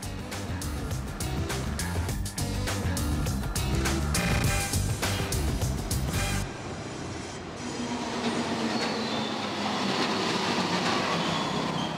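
A Paris Métro Line 7 train running between Villejuif and La Courneuve, loud rumbling wheels and rhythmic rail clatter for the first half, then shifting to a steadier, quieter rolling hiss with faint squeal as the ride continues.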